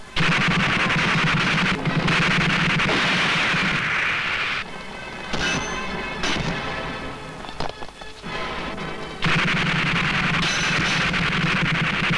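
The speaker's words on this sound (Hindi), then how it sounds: "कौन गोलियां चला रहा है?" Film gunfire rattles in loud sustained bursts, then drops to a sparser, quieter stretch with scattered cracks before the heavy volley resumes near the end.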